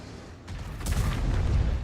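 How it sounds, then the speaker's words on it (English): An enemy AMX tank gun fires in World of Tanks, a single distant boom with a broad crack and a low rolling rumble that trails off. "The AMX there, it rushed its shot, so it round fell a bit of a short distance from me."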